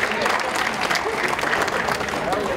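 An audience claps together in a steady, fairly loud burst of applause, with voices talking over the clapping throughout.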